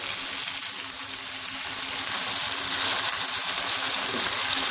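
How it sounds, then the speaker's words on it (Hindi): Chicken fries in a karahi over medium-high flame, giving a loud, steady, close sizzle and crackle that holds throughout with no talking. "चिकन को हम तकरीबन 2-3 मिनट फ्राई करके अच्छा सा इसको गोल्डन कलर दे देंगे"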